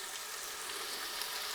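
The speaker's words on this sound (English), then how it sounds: "all we're going to be doing is just searing this a little bit before we add all of the other ingredients" Beef searing in the pot of a Ninja slow cooker before the other stew ingredients go in: a steady, close, even hiss of sizzling meat that never lets up, with no voices over it.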